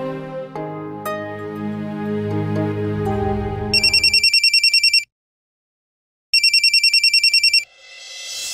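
A telephone plays its ringtone in two loud, rapid electronic trilling bursts separated by a brief silence, following a fading melodic chime.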